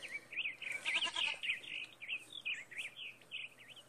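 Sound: sheep bleating in the video game Dreamlands

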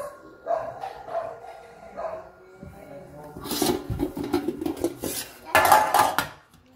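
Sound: handling a Gardini pan

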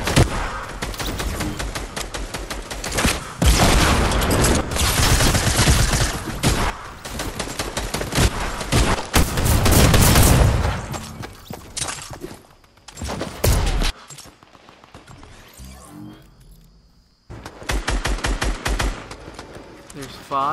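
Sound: gunfire in the video game Fortnite

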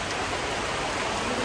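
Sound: heavy rain falling outdoors

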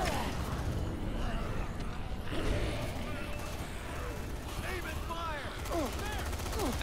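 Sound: enemies shooting guns in the video game Dead Rising 3

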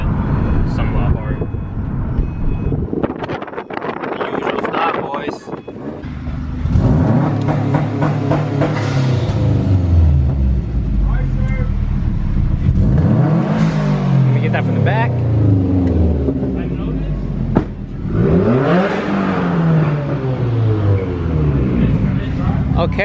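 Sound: Subaru WRX engine revving with Invidia catless downpipe exhaust

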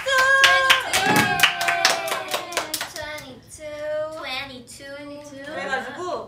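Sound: clapping hands

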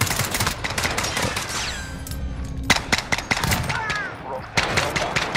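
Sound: shotgun gunfire in a video game

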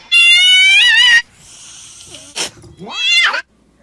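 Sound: cat reacting to hacky sack

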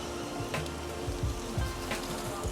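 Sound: rain falling in Mumbai

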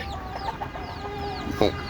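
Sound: free-range chickens

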